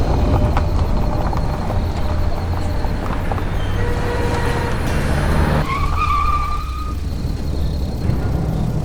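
A car drives along at night in an animated horror story, with a steady engine rumble and road noise filling the whole stretch, plus a brief squealing tone near the end.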